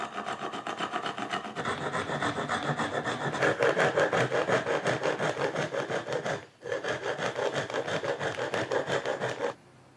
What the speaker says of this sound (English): File into the round shape with this tool called garib.